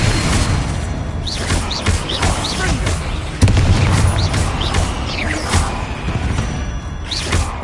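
Booming spell blasts and crackling magical bursts from a fight in the Hogwarts Legacy video game, loud and dense throughout, with a sharper hit near the middle and background music.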